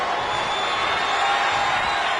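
A large crowd at a televised wrestling event roars with a dense, sustained wash of cheering that fills the arena evenly throughout.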